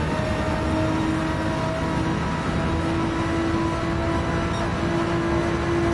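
A Porsche 911 engine in Gran Turismo 7 holds a high, steady revving drone with a sustained whine throughout, loud and continuous with no talking.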